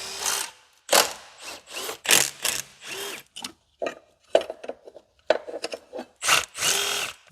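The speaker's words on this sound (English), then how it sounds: "Now we got to rip this alternator bracket off." Ratchet and hand tools work loose the alternator bracket on a supercharged Corvette engine during teardown, a series of close, sharp clicking and scraping bursts separated by short pauses.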